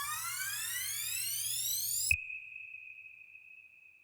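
Reggaeton beat transition effect built in FL Studio: a bright rising sweep of stacked tones over a low hum climbs for two seconds, then snaps into a sustained high steady tone that slowly fades, with no talking.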